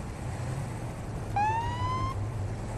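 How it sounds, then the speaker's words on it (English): A police emergency siren in the Police Simulator video game, heard as one brief rising tone that holds for under a second over a low steady background rumble. "emergency siren will drop way down at a 40"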